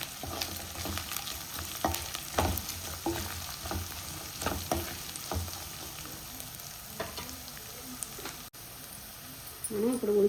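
Ginger garlic paste and green chillies fry in a pan for a cabbage and chana dal dish, a soft continuous sizzle punctuated by intermittent spatula scrapes and taps, fairly quiet overall.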